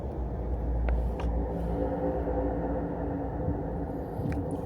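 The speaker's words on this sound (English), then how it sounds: "Even in the car, you can hear the rumble of the engines." Race car engines at Daytona International Speedway during the Coke Zero Sugar 400, heard from inside a car as a low continuous rumble, steady and distant.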